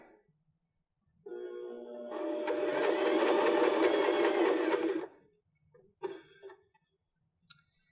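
A sewing machine stitches a cork fabric pillow in one loud, steady run of about four seconds, slowing to a stop, followed by a few brief clicks and taps as the fabric is handled.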